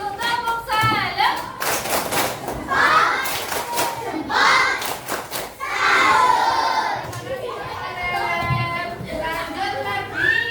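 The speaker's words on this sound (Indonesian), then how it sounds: "Kasih tepuk salam sudah maju. Tepuk salam." Children in a classroom doing a rhythmic greeting clap, a series of sharp hand claps in bursts mixed with shouting and chanting voices, fairly loud and close.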